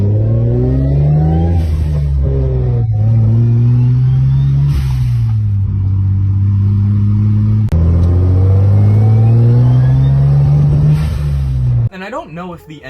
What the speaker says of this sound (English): There's also this big blow-off valve, which sounds like this.